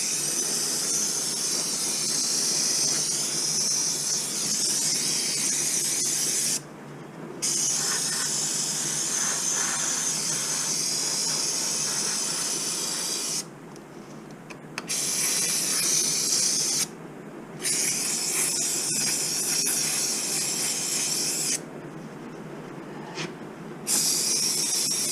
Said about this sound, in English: I have the magic spray. So I'm just gonna fucking soak it all,